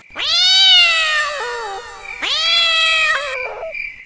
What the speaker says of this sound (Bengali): বাড়ির পিছন দিক থেকে একটা কালো বিড়াল বিকটভাবে ডেকে চলে গেল